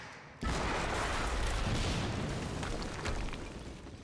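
An explosion in the Quantum Break video game, a sudden loud boom that settles into a broad rumbling roar lasting several seconds, with no voices.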